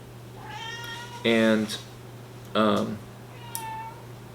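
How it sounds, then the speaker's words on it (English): A house cat meows twice, fairly close and clear, with a fainter third meow after, set against a steady low electrical hum indoors during a tennis racket stringing session. "I think my cat wanted to join me here."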